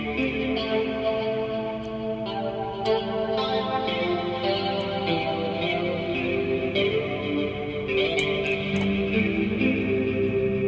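Electric guitar notes from a Korg Gadget rhythm guitar instrument, drenched in feedback reverb and stereo delay, ringing and overlapping into a lush, washed-out wash of sound.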